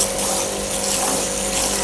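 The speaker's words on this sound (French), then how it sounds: "Je mets un peu d'eau." Water pours steadily into a bucket, a continuous close gushing rush that fills the short moment with no talk over it.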